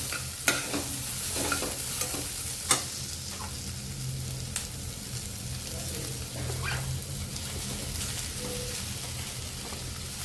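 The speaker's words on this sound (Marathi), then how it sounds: "यामध्ये आता मी टॅमॅटो टाकणार आहे" Tomatoes added to browned onions in a pan for a spicy prawn masala, a steady soft sizzle of frying with a few sharp clinks of the stirring spoon against the pan.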